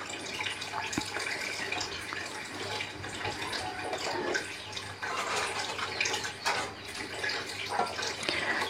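Water pours into a hot pan of stir-fried water spinach with shrimp-paste chili sauce, a steady splashing hiss that runs close and unbroken with no talk over it.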